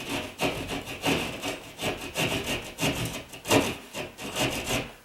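A handheld drywall saw cuts a hole through wood in a ceiling, giving steady back-and-forth rasping strokes, roughly two per second, close and fairly loud with no talking.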